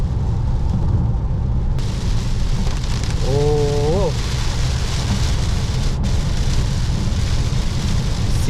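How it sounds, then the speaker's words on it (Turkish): Heavy rain drums steadily on a car driving through a sudden downpour on a long road trip between Amasya and Rize, Turkey, a dense continuous roar with one brief tonal sound partway through and no speech. "Şimdi yağmurdan önümüzü göremiyoruz."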